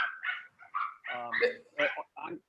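Several dogs bark and yip in short, irregular bursts at close range, with a few whimpering notes mixed in and a voice heard faintly among them.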